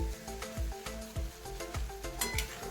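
Barfi mixture roasts in ghee in a pan, giving a soft continuous sizzle broken by scraping spatula strokes that come in a quick, uneven rhythm.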